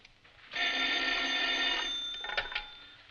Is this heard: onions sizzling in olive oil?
no